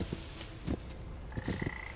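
Cartoonish frog croaks from the video game PaPo & Yo, several short bursts spaced irregularly across a couple of seconds, fairly close, alongside a steady tonal game sound.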